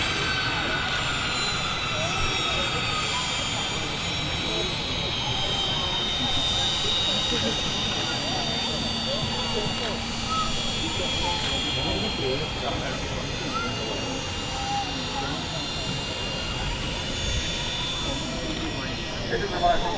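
An aircraft at Manchester Airport gives a steady, broad engine roar that holds at an even level throughout. The sound is constant and somewhat distant, with no clear rise or fade.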